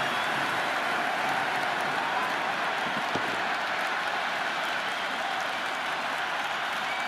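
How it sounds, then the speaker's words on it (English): Crowd at a cricket stadium during an India vs England ODI roars and applauds after a six, a dense, continuous wash of cheering and clapping from the stands that holds steady throughout. "There's a buzz, a real buzz coming from the stands."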